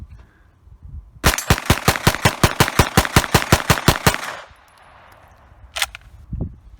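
A PTR 9KT MP5K clone pistol fires a rapid string of about fifteen sharp, loud shots in even rhythm, followed by a quieter pause and a few faint clicks and handling sounds.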